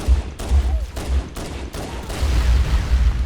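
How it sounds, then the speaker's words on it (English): Rapid gunfire from a gun in Halo: Combat Evolved, a steady stream of loud close shots over deep rumbling low end, continuing without pause through the whole stretch. "I just literally walked around the corner and shot him"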